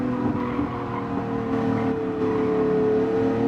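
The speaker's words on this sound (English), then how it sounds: "Is it that you use engine braking to slow you down more?" A race car in Gran Turismo 7 drones under engine braking, the steady engine note sliding gradually downward in pitch as the car slows, loud and close with no talking.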